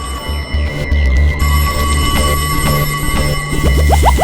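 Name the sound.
telephone ringing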